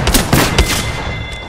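Loud, close gunfire in the Apex Legends video game: rapid overlapping bursts and sharp shots packed into a short volley, with no talking.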